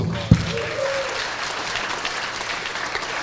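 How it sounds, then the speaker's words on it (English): Wedding guests give a round of applause during a reception speech, a sustained even wash of clapping from a crowd, opening with a sharp thump nearby. "again, one more round of applause"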